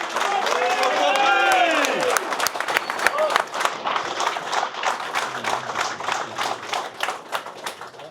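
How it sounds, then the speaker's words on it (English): Crowd applause at a construction rodeo awards ceremony, steady clapping from a gathered group with scattered cheers; voices speak over the clapping at the start. "Another round of applause, guys."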